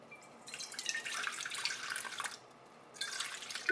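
Warm water poured into a bowl as the first ingredient of sourdough bread dough; a steady close trickling splash that pauses briefly and then resumes, with no talk.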